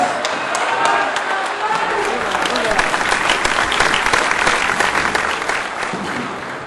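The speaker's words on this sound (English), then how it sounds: "give yourself another round of applause" A crowd at the All Trinidad General Workers' Trade Union gathering breaks into sustained, dense applause, steady and loud throughout with a few sharp claps standing out.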